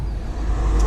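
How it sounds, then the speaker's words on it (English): Traffic passing outside a home garage where a 2005 Acura TL is being repaired, a low, continuous road rumble and hiss that swells slightly toward the end, with no talking. "There's cars driving by"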